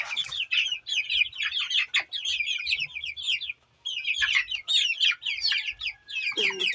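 Chickens on a small farm cluck and chatter continuously in a busy, close flock, with overlapping calls that briefly pause before resuming.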